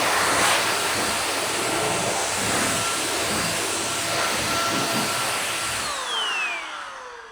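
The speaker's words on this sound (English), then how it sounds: "how quick a contactless dry is with using a car dryer" A powerful car dryer blowing air over a vehicle roars steadily with a loud rushing of air, then winds down and cuts off near the end, its pitch dropping as it stops.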